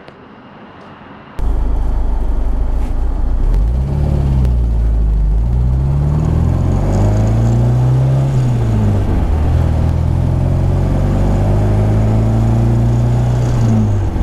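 A 1972 MG MGB four-cylinder engine drones steadily while driving mountain roads, loud and close with rising and falling revs as it accelerates through the gears.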